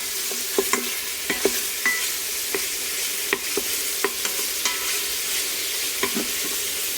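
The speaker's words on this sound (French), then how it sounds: "quand le beurre est fondu, j'ai rajouté les lardons" Lardons sizzle steadily in melted butter inside a multicooker, a constant close frying hiss broken by scattered light pops and scrapes of stirring, with no voices.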